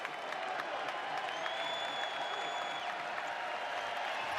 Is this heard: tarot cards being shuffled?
no